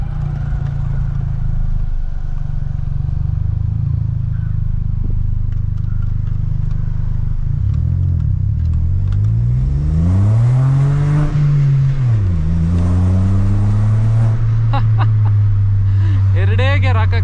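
Modified VW Polo with a loud aftermarket exhaust and no ECU tune pulls hard through the gears, engine note climbing and dropping as it shifts, loud and close, with occasional voice beneath.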